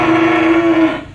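A young crossbred F2 cow at a cattle farm gives a single loud, drawn-out moo lasting about a second, steady and close, with no talking over it.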